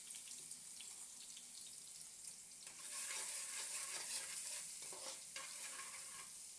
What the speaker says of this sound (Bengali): এইবার তেলের মধ্যে রসুন থেতো করে রেখেছি, ওই রসুনটা ফোড়ন দিয়ে দিলাম।